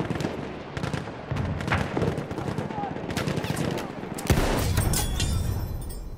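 Rapid bursts of Mondragón rifle fire from Battlefield 1, a semi-automatic gun in a first-person shooter match, crack repeatedly over constant battle noise, with a louder shot near the end and brief talk mixed in.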